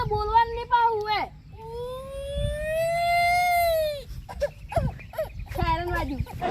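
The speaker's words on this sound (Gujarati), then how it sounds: "સાયરન વાજુ" A police siren's wavering wail rises and falls in long sweeping tones, with voices chattering around it in a comic village scene.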